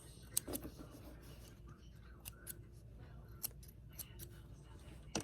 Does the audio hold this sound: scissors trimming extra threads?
yes